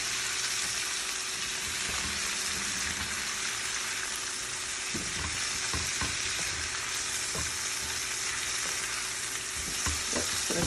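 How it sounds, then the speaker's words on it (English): Spinach for an omelette sautéing briefly in a pan, a constant hissing sizzle with soft scrapes and clacks from stirring in the second half, no voices. "Just a little bit of sauteing, not too much"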